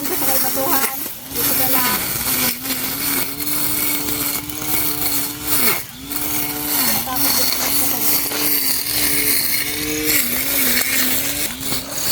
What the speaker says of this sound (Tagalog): Yan, naayos na ni Kuya Jube yung ating grass cutter.